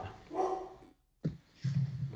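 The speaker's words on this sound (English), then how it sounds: "Dogs are barking." A dog barks in short bursts nearby, broken by a brief silence, with voices talking around the barks.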